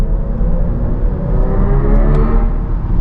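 A 2025 MINI Countryman SE ALL4 electric car pulls away, giving a steady low cabin rumble and road hum with a faint electric whir, continuous and moderately loud throughout, with no talking.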